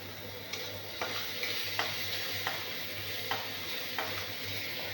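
Ginger, garlic and onion fry with pointed gourd in a pan: a steady close sizzle with light spoon taps and stirring clicks at irregular intervals, no talking.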